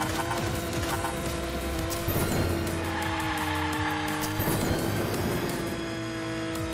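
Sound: video game race car engine and tire squeal

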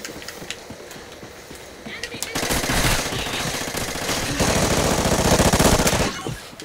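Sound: gunfire from a gun in Call of Duty: Ghosts video game

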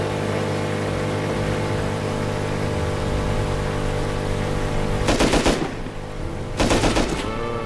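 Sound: gunfire in video game Rust cargo ship event

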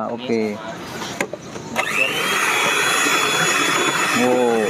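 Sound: electric mixer whipping egg whites until foamy

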